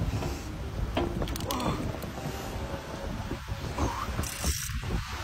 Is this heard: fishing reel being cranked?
yes